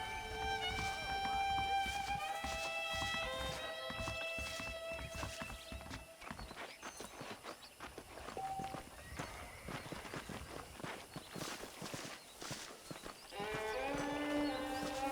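Video game horses' hooves thud and clatter along over layered music, with an occasional whinny; the hoofbeats fade and return.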